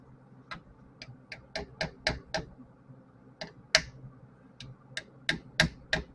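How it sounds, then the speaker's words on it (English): Sharp metal taps from a hammer driving a greased pinion seal into a differential housing, about a dozen distinct close strikes in irregular pairs and singles over quiet garage background. "I got a fancy hammer. Kind of go around, bring it in slowly."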